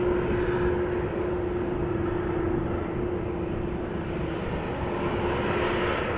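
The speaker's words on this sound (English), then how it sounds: "Now Transavia on the move." A Transavia airliner moves along the ground at Amsterdam Schiphol Airport, its engines giving a steady, fairly close broadband roar with a sustained whine throughout and no voices.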